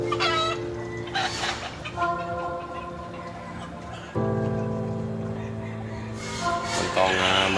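Roosters kept for Lunar New Year sale crow and cluck loudly at close range, with long drawn-out crows overlapping steady clucking throughout.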